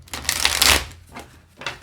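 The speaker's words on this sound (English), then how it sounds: "We'll do one more quick shuffle" Tarot cards being shuffled by hand, a quick run of crisp riffling flutters that swells loud in the middle, pauses, then resumes briefly near the end, close up with no talking.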